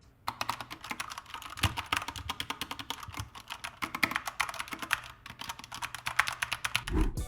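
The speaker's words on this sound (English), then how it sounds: "Here's a sound test of the K65 RGB Mini." Rapid, continuous typing on a Corsair K65 RGB Mini 60% keyboard, crisp clacking keystrokes close up and alone for several seconds with no talk.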